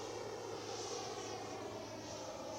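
FMS Avanti S 90mm EDF model jet whooshing steadily overhead as its electric ducted fan powers up, a continuous, fairly loud airy roar with a constant high-pitched whine and no break.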